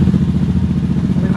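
A bored-up Honda Scoopy scooter engine runs close by at a steady, loud idle with a pulsing mechanical rattle.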